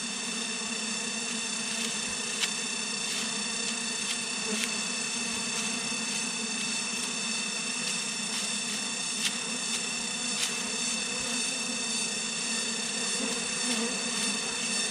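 Wild forest honey bees swarm around a hive, a dense steady buzzing drone with many close wings humming together, loud and continuous with occasional nearer passes and no talking.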